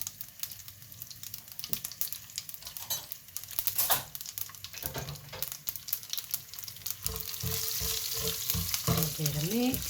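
Chopped garlic and sesame seeds frying in a pan for Gujarati muthia made from leftover rice, a steady close sizzle with scattered crackles and pops that grows denser and louder toward the end.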